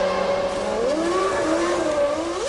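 Formula 1 race cars of the 1997 season roll into the pit lane, their high-pitched engines holding a steady whine that rises and falls in pitch as they downshift, loud and continuous.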